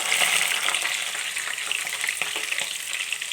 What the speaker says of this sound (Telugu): ఇది కొంచెం బాగా ఎర్రగా కలర్ వచ్చేలాగా వేయించుకోవాలి.